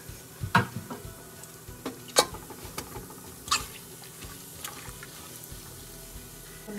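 Whole biryani spices dropped into hot oil for mutton pulao, crackling and sizzling in the pan with a few sharp pops and stirring scrapes, close and moderately loud.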